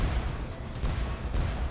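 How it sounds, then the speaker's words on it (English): Explosions in the physics puzzle game Contraption Maker, rumbling low booms that come in overlapping bursts, fairly quiet and muffled with no talk over them. "Explosions."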